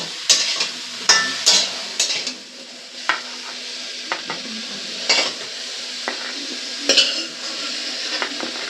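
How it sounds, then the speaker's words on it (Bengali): Cauliflower florets fried in oil with salt, turmeric and cumin seeds in a pan, a soft continuous sizzle broken by repeated metal spatula scrapes and clinks against the pan, close by and without talk. "ফুলকপিটা নুন হলুদ দিয়ে জিরে ফোড়ন দিয়ে ফুলকপিটাকে কিন্তু ভালো করে ভেজে নেব"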